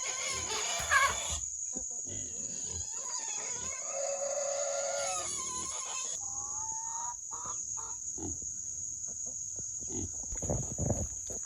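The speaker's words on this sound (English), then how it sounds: "we got some chickens." Chickens cluck and a rooster crows in a chicken yard, with a steady shrill insect buzz running underneath the whole time and scattered close fowl calls.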